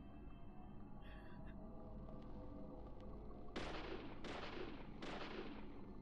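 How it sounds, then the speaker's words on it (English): Three loud, sharp gunshots in the video game Deadly Premonition: Origins, evenly spaced with ringing tails over a quiet ambient background. "I am shooting you. The bullets are hitting you."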